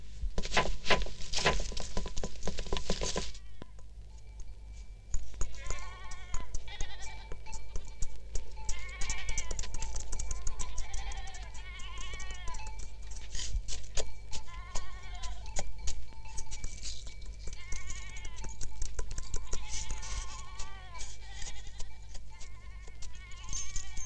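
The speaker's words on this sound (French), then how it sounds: "Cent chameaux, 1000 moutons, 50 chèvres." A large herd of sheep and goats bleats in an open outdoor setting, many overlapping calls near and far over a constant rumbling background, with a burst of broadband noise at the start.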